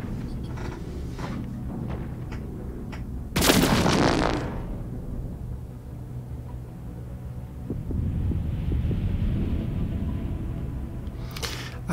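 Spaceship weapons exchange fire in an Endless Space 2 space battle: a loud burst of blasting and booms near the middle, with scattered shots and rumbling salvos before and after.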